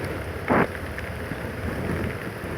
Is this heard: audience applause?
no